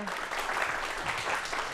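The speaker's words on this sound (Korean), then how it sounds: "오늘 귀한 시간 내주신 두 분에게 박수 부탁드리겠습니다" A studio audience at a Korean TV lecture applauds briefly, a dense wash of clapping heard close and moderately loud throughout the short stretch.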